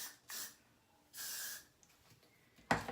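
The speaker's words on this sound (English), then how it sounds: "I'm going to spray some Got to Be Glued all over instead" Two separate hissing bursts of Got to Be Glued hairspray mist onto hair nearby, each lasting roughly a third of a second, followed by a brief sharp rustle.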